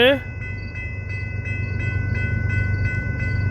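A CPKC westbound freight train rolls past with the steady, rhythmic clatter of wagons on rail joints, loud and close, starting with a fading horn blast.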